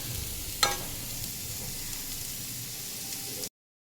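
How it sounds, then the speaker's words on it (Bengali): Food frying in oil in a pan sends up a steady, quiet sizzle, with one brief clink early on before the sound cuts off. "এই যে হয়ে গেছে ভাজাটা।"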